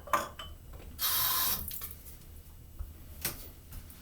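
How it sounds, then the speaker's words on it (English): Water is poured into a shaving soap bowl, heard as a brief, close splash and trickle of about half a second amid quiet handling noises. "I'm gonna go ahead and put another teaspoon of water in there just for grins."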